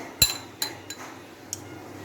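A spoon tapping against a glass as basil seeds are added for a sabudana tapioca drink, a few light separate clinks, close and delicate, over a quiet room.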